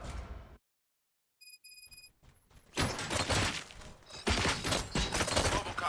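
Heavy gunfire from the RoboCop Rogue City video game erupts in loud, dense bursts after a brief silence and a few electronic beeps, continuing as a sustained barrage.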